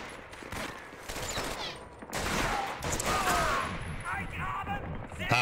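Enemy gunfire in Medal of Honor: Vanguard, a rapid fusillade of rifle and machine-gun shots crackling continuously over several seconds, with bursts swelling louder midway and a voice faintly mixed in.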